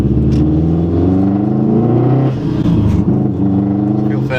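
A 2016 Subaru WRX STI with a catless downpipe and custom straight-pipe exhaust rumbles loudly and steadily, its engine note rising and falling with revs, heard from inside the car.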